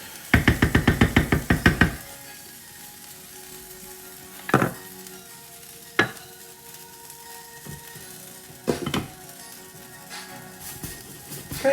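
Chickpea curry being stirred in a pot: a quick burst of knocking at the start, then a soft sizzle with occasional single scrapes and knocks of the spoon against the pot.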